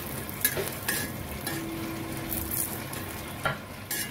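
Grated coconut roasts in a little oil in a pan, giving a steady soft sizzle broken by several sharp scrapes and knocks of a spoon being stirred.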